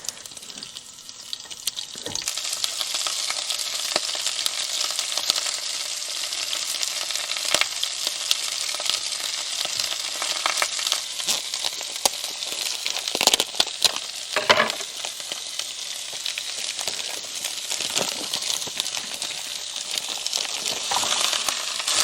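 Continuous crackling sizzle of minced beef frying in a large saucepan at a campsite, with occasional scraping and clinks of stirring with a fork, loud and close, no talking.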